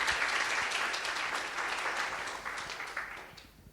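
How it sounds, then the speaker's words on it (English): An audience at a talk event applauds to welcome a speaker, a steady wash of clapping from many hands that slowly fades toward the end. "Just give a little bit of a round of applause for Kath,"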